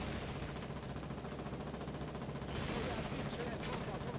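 Heavy gunfire rattles on in the World War-style online battlefield game Foxhole, dense continuous shooting with artillery nearby, quite faint and distant in the mix, swelling slightly toward the end.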